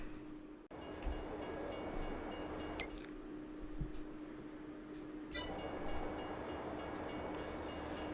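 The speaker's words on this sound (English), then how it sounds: "we'll wait for the train to arrive" A train pulling into a station in the farming game Farming Simulator 22, a steady low rumble with a faint horn-like tone and a couple of sharp metallic clanks, moderately loud with no talking.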